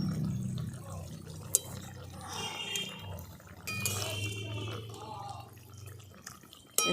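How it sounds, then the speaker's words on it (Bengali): A light curry of river fish with fennel paste boils in a pan, giving a steady, close bubbling and simmering with occasional sharp clinks, without talk. "এই মাছগুলো দিয়ে আরেকবার ফুটিয়ে নিচ্ছি।"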